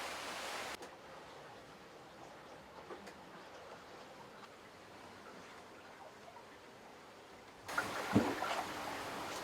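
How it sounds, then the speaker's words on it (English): Water rushing and trickling off the transom of an HH55 sailing catamaran under way in calm seas, a soft steady hiss with a louder splash near the end. "You hear water off the transom, but it's a quiet boat inside."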